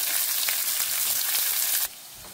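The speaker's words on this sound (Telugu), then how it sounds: "ఉల్లిపాయలు, పచ్చిమిరపకాయలు వేయించుకొని" Onions and green chilies frying in hot oil give a loud, dense, close sizzle that holds steady for nearly two seconds, then drops suddenly to a faint hiss.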